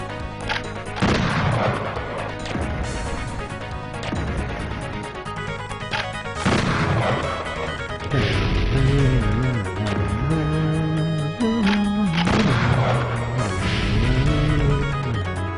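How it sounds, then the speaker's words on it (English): Shotgun blasts in the DOS game Avalon, several loud booming shots spaced a second or two apart, each with a sharp crack and a decaying rumbling tail, alongside game sound effects. "as far as the weapon sounds, this shotty is by far my favorite"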